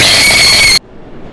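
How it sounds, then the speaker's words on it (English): Train whistle trinket in the video game Dandy's World, a loud, bright, sustained two-tone whistle that cuts off abruptly partway through, leaving quiet background. "I got train whistle."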